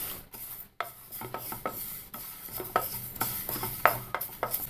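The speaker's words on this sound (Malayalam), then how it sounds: "കരിഞ്ഞു പോകാതെ ചെറുതീയിൽ തന്നെ ഇട്ട് ഇളക്കിക്കൊണ്ടിരിക്കണം." Sesame seeds roast in a pan over a low flame while a utensil stirs them, giving soft, irregular scraping and rustling strokes with occasional light clinks against the pan, close and fairly quiet.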